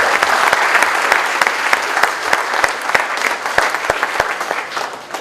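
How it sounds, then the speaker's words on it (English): Sustained applause from a lecture audience at Techfest 2012 at IIT Bombay, dense and steady clapping close by with sharp individual claps standing out throughout. "Please give these guys a round of applause."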